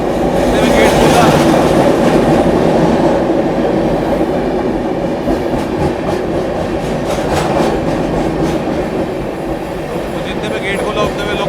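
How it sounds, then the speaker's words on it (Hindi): A Rajdhani Express train passes nearby, loud and continuous with rumbling wheels and rhythmic clickety-clack over the rails, while a voice speaks under the noise. "ट्रेन क्रॉस होनी थी"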